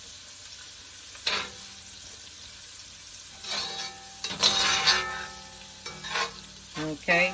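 Onions sizzle and fry in a pan for curry crab under a steady background hiss, broken by several scraping stirs of a utensil. A voice speaks briefly.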